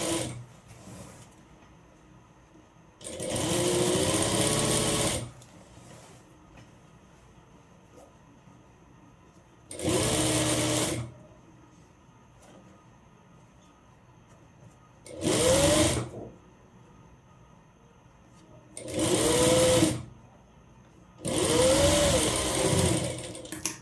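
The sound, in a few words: sewing machine top-stitching an umbrella frock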